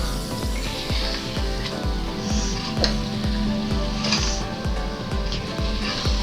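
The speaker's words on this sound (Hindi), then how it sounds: "इसको इस मसाले को गोश्त के साथ हमने तकरीबन 10 मिनट तक फ्राई करना है, मीडियम आग पे" Meat frying in a spiced masala for karela gosht with bitter gourd over medium heat, a steady close sizzle with repeated soft scraping and stirring strokes running throughout.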